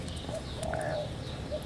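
Zebra dove (perkutut) cooing in an aviary, with a soft mid-pitched coo phrase over steady background noise and faint chirps from other birds.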